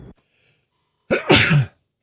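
A single loud, close sneeze bursts out inside a truck cab after a short pause, then quiet follows.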